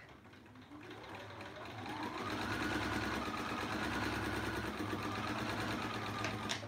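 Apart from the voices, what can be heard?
sewing machine stitching a leader and ender quilt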